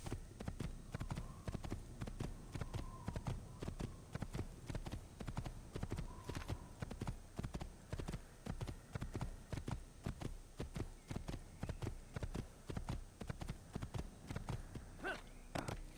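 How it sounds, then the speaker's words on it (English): Hooves of a black stallion in the video game Assassin's Creed, a steady, rhythmic clip-clop of a walking horse, each footfall distinct and close, continuing evenly with no talk over it. "Get on the horse. The black stallion horse."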